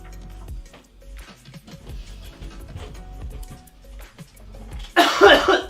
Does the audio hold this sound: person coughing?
yes